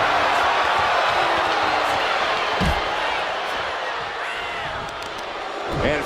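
A large wrestling arena crowd at a WWE SmackDown show roars and cheers in a continuous wash, with a thud from the ring and a commentator's voice over the top.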